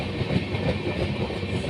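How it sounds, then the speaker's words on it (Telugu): The Kagaznagar Superfast Express runs at high speed, heard from onboard as a steady loud rumble with rhythmic wheel clatter and no voices. "ట్రైన్ అనేది లైక్ ఫస్ట్లో కాజీపేట దాకా డిలే ఉన్నా, బట్ ఇప్పుడు ఆ డిలే అంతా కవర్ చేసుకుంటే చాలా అంటే చాలా స్పీడ్గా వెళ్తున్నాడు"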